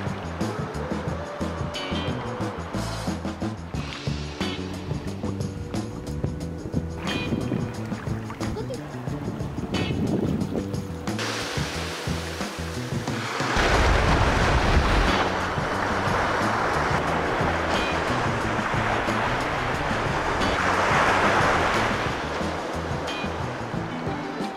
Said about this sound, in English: the sound of the waves crashing onto the shore